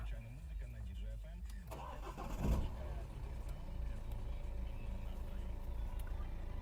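A 2011 BMW 316 engine cranks and catches after a press of the start-stop button, a brief starter burst giving way to a steady low idle, recorded from inside the car.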